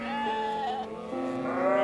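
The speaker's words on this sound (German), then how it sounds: "Das ist Tiroler Steinschaf. Alte Rasse, ist ein kleiner Schaf eigentlich." A Tyrolean Steinschaf, a small old breed of mountain sheep, bleats close by in one drawn-out wavering call, loud and clear with no talk over it.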